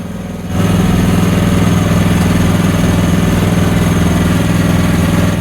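A Chinese-made mini excavator's engine runs steadily and loudly up close, a low droning idle with a constant rumbling tone that swells slightly after the first half second and holds without pause.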